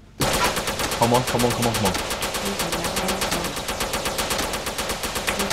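Rapid automatic gunfire from the GTA roleplay video game rattles loud and close in a continuous burst, with a brief spoken line partway through.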